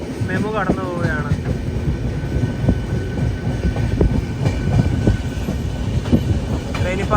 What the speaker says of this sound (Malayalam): ഇതുവഴി ഇതാ ഒരു മെമു കടന്നു പോവുകയാണ്